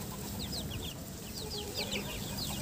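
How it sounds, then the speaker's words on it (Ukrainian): Chickens cluck and chatter repeatedly in short bursts, fairly faint and slightly distant, over a low background hum. "Такі гарні домашні кури."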